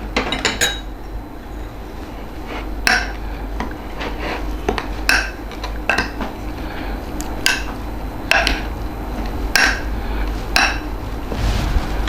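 A metal spoon scrapes and clinks against a pan or bowl as tikka masala is mixed into meat. The sharp clinks come at irregular intervals, and there is no talking.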